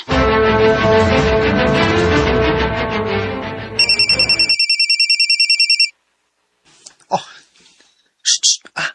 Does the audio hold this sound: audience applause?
no